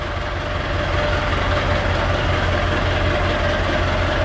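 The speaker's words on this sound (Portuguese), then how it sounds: "Se você tá gostando de ouvir esse barulhinho do motor a diesel" A Perkins turbo diesel engine idles in a Chevrolet D20 pickup, producing a continuous, close, heavy rumble with a steady rough clatter and no interruptions.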